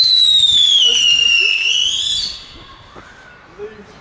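Funke air whistler fireworks shriek loudly with a piercing whistle that slides downward in pitch for about two seconds, then cuts off, leaving quieter outdoor background with faint crackles.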